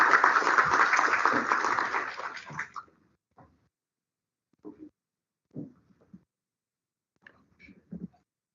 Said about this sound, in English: With his round of applause.